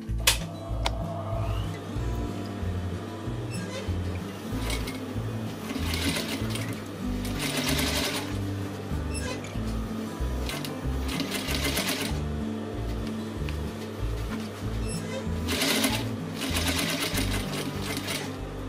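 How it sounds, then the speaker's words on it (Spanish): A sewing machine stitches the hem of shortened denim jeans in quick mechanical runs that stop and restart, each run separated by brief pauses and small clicks. "Voy a coser un poquito y así lo veis."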